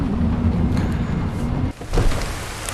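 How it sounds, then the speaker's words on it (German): Steady rainfall hisses in the Skyrim VR game world under a low rumbling bed, with a sudden drop-out and then a swell near the end like distant thunder. "Es regnet halt."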